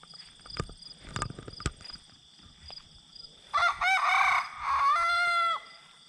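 Homestead rooster crowing in two long, loud, drawn-out calls near the end, preceded by scattered clucks and knocking sounds from backyard chickens.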